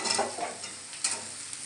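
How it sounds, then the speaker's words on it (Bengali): Diced potato pieces fry in oil in a wok while being stirred, a brief close sizzle broken by scraping strokes of a spatula. "দেখুন আলুটা আমার ভাজা ভাজা হয়ে গেছে"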